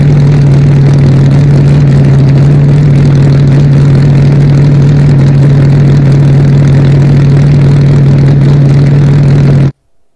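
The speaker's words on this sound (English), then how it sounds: "they gave us a little tease about the cars and what do they sound like" An SRX series race car engine holds a loud, steady droning tone with a strong low hum, running continuously near the microphone before cutting off abruptly at the end.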